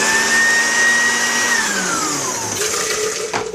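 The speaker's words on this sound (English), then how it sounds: "Back to the blender." A kitchen blender whirs loudly and steadily while blending a pineapple drink with a little water, its motor whine sliding lower partway through as the load changes, then a brief clatter near the end; no talking.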